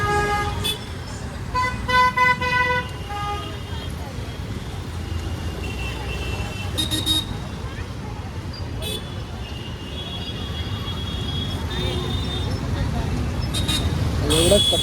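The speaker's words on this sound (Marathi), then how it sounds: "एवढंच पट्ट्यामध्ये ट्रॅफिक लागते" Busy road traffic at a Thane market, with several short car horn toots scattered across the clip over a steady roar of passing vehicles, fairly close.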